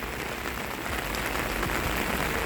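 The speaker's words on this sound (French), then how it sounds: "Il pleut depuis ce matin" Rain that has fallen since morning keeps coming down on paved urban streets where a road is closed for flooding, a soft, even hiss of steady rainfall throughout with no voices.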